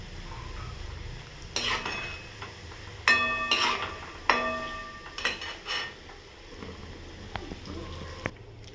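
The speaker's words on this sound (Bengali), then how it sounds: "আমার নিমকি ভাজা হচ্ছে" Nimki, a soft dough snack, frying in a pan, with a steady low sizzle beneath sharp clinks and scrapes of a utensil stirring, close and moderately loud.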